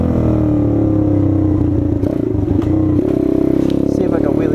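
Motorcycle riding up a hill, its engine droning loud and close for the whole stretch and rising in pitch near the end, with some clatter and a voice heard over it.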